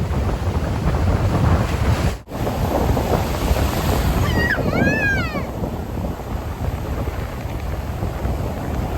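Ocean waves washing onto a beach, a steady broadband surf roar with wind buffeting the microphone, a brief dropout partway through and faint high chirps later on.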